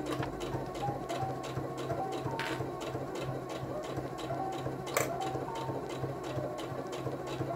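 Sewing machine stitching two fabric collar pieces cut from old bed sheets, a steady rapid mechanical whir with even repeating pulses throughout, fairly close and alone.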